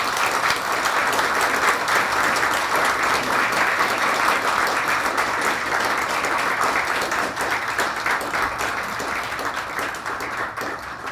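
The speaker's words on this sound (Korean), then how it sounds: "마찬가지로 박수로 맞이해 주시면 감사하겠습니다." A large audience at a Korea University retirement ceremony and farewell lecture applauds, giving dense, continuous clapping that holds steady and then eases slightly toward the end.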